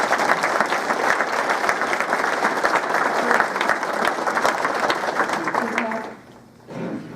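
Audience applause welcoming a keynote speaker at a social studies council conference, dense sustained clapping filling the room for about six seconds before fading out abruptly.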